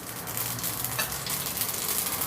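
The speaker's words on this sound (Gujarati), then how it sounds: "આમાં રાઈનો મેથીનો જ વઘાર હોય" Mustard seeds and fenugreek crackle and hiss in about a spoonful of hot oil for tempering mango-chili sambharo, a steady close sizzle with no voices.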